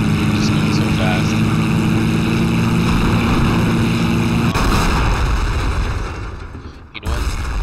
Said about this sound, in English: There's anti-aircraft fires coming from that base.